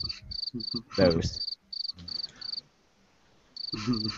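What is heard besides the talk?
cricket chirping sound effect for awkward silence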